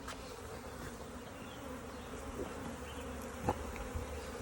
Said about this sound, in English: As you can see, there's still plenty of bees in there.